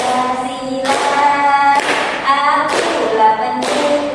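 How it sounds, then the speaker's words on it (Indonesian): A classroom group claps in a steady beat, roughly one clap per second, alongside singing of the Indonesian patriotic song Garuda Pancasila. "bantu saya untuk tepuk tangan"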